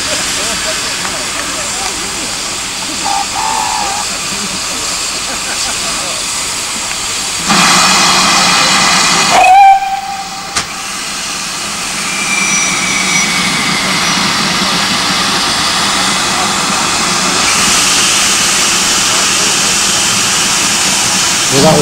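The steam locomotive City of Truro passes at a winter railway gala with a continuous loud hiss and rush of steam, a brief whistle-like tone midway, and voices in the background.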